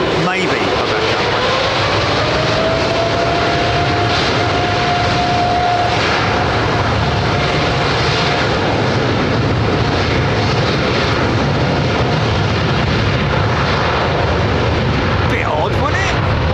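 Jet airliner at London Heathrow Airport producing a loud, continuous roar that fills the whole stretch, with a whining engine tone sweeping up early on.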